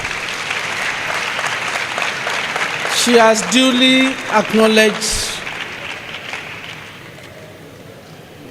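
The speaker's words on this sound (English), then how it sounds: "Can we give her a round of applause again?" Applause for an inaugural lecturer at a university lecture rises from about three seconds and runs for roughly two seconds, moderately loud, with speech before and after it.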